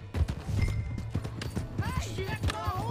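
A horse's hooves clip-clop with an irregular rhythm at mid-distance in the video game Red Dead Redemption 2, mixed with footsteps and background game sound, and people talk briefly over it.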